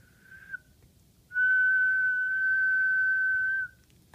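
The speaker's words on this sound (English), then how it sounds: "so I can whistle here." A person whistles into a microphone: a brief faint note, a pause, then one long steady pure tone held for about two seconds before stopping cleanly.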